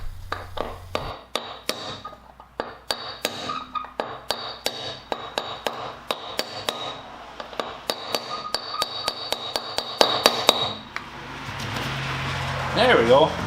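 A punch being hammered to drive a bearing into a wheel hub, a steady series of sharp metallic strikes ringing closely in a regular rhythm, growing quicker toward the end over faint background noise.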